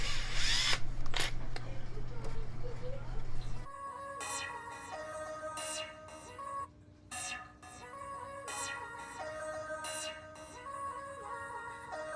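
A power drill driving screws into a wooden aquarium stand for a 225 saltwater tank: a brief whir opens, then repeated short high-pitched motor bursts in rhythmic pulses, close, with a voice speaking over parts.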